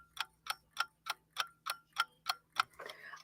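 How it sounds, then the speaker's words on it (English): A wind-up alarm clock ticks in a steady, even rhythm of about three ticks per second, close and quiet in a still room, ending with a faint rustle. "I have a clock over here that makes a clicking noise."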